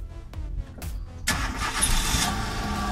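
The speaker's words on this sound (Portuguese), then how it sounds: "Olha o carro a trabalhar para a gente sangrar os travões agora" A Kia car engine cranks and catches, then settles into a steady idle, close and fairly loud, running during brake bleeding on a brake caliper repair.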